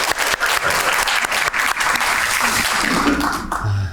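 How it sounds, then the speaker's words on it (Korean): Dense, steady applause from a crowd at the opening of a social economy policy forum, filling the room at close range and then cutting off sharply near the end. "박수"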